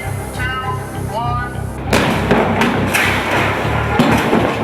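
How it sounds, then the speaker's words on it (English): After a brief voice, a stunt vehicle called the shredder smashes through a car with a heavy crashing impact, followed by sustained crunching and rumbling debris with a few further thuds. "The shredder is going to bust through the car"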